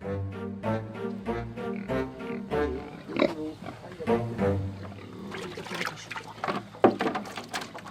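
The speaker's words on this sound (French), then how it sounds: "De son vrai nom, le mangalitsa est un cochon dit laineux." Mangalitsa woolly pigs grunting and snuffling repeatedly at close range, with a voice talking over them throughout.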